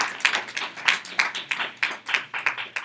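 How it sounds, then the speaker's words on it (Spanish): After a university conference talk on green infrastructure, a small audience claps in a sparse, rhythmic pattern of distinct beats, moderately quiet and without talk. "Un aplauso."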